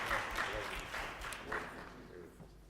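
An audience at a restorative justice summit applauds, with a soft spread of clapping that fades gradually over a few seconds and some voices mixed in.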